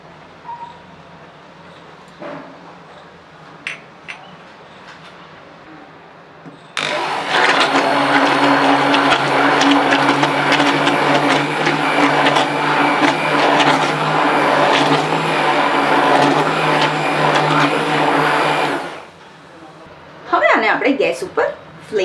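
A kitchen blender mixes about 500 ml of buttermilk with a large spoonful of gram flour, a loud steady motor whir running roughly twelve seconds after quiet talk, then cutting off as talking resumes.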